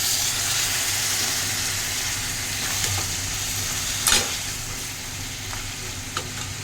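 Paneer, potato, tomato and capsicum curry sizzling and frying in a pan as lukewarm water goes in, a steady hiss with a sharper burst of sizzle and faint stirring clatter partway through.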